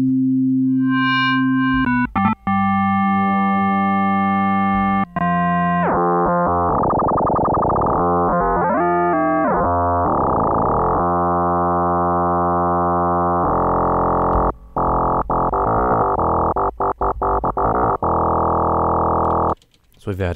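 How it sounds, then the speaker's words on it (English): A buzzy Nord Rack 3 synthesizer using FM modes plays sliding, warbling tones with gritty distortion, shifting through pitch sweeps and stuttering pulses, loud and continuous. "So we've added some distortion on that."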